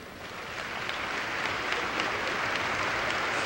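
An audience at a talk about stopping killings breaks into clapping, a steady, dense wash of applause that builds slightly and holds without any speech.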